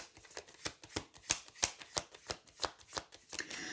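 Tarot cards being shuffled by hand in a quick, regular riffle, with about a dozen crisp snapping bursts close up and no talking.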